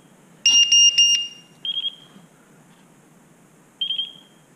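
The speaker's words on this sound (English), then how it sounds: "you hear the different beep from the radio" Electronic beeps from a Taranis radio transmitter: a quick burst of high tones, then two shorter separate beeps after pauses, clear against a quiet background.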